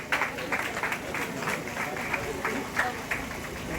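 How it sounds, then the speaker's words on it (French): Audience applause at a ceremony honouring local sports champions in Martinique, scattered claps running steadily under a speaking voice throughout. "on les applaudit encore très fort"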